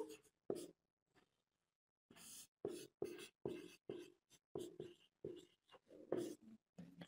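Chalk or marker writing on a board during a vector algebra lesson, heard as a run of short, sharp scratching strokes in quick bursts, close and clear with no talk over it.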